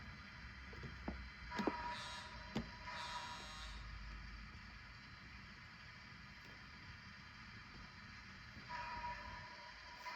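A model Pacific Fruit Express train hums and rattles steadily along a track, with a few faint clicks and squeaks over a low, continuous rumble.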